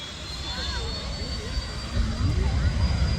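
An 18,000 HP twin jet engine car, 21 feet long and carrying 400 liters of jet fuel, warming up at the Vanderhoof International Airshow: a steady loud jet whine and roar that swells louder toward the end, with some voices nearby.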